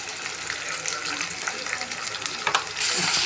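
Onions and green chillies frying in a pan, a dense, close crackling sizzle that flares with a few sharp pops near the end and grows briefly louder as the pan is stirred.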